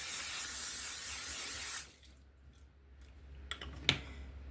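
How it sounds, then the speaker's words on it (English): A steady hiss of cooking spray onto a pan lasts almost two seconds, then cuts off, leaving quiet room noise and a couple of faint clicks. "we're going to go grab some cooking spray and just spray the pan down."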